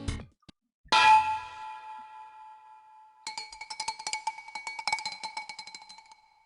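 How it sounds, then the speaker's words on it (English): A metal can kicked in the dark in the game Ever17: one sharp ringing clang, a short pause, then a long run of rapid tinny clinks as it rolls away down a corridor. No voices. "The sound of a can being kicked rang out in the darkness."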